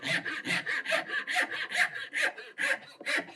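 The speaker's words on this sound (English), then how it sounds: "start my cut, kerf all the way across the top of the piece" Hand saw cutting a kerf across the top of a wooden workpiece for a square-leg Craftsman table, a close, steady rasping back-and-forth of about a dozen even strokes.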